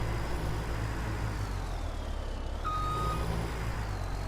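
A skidder in the Farming Simulator 17 video game backs up with a steady reversing beep over a constant low engine drone, heard alone at an even level.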